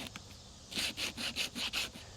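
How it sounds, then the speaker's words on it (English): Coarse 80-grit sandpaper rubbed over the sidewall of a rubber tractor tire, giving about six quick, close, rhythmic scraping strokes, fairly quiet. "So I'm going to sand on it a little bit"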